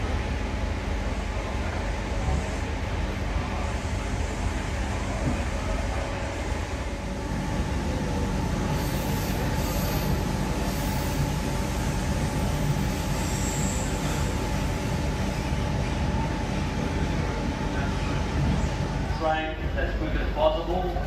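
A suburban train rumbles steadily in the background at a station during a farewell for the SETS Chopper C Set, a loud continuous roar with wheel squeal and hum, under announcement-style speech.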